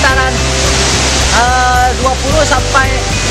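Loud, steady roar of a tall waterfall near the Aruk border crossing, a broad rush of falling water heard close up, with someone talking over it throughout.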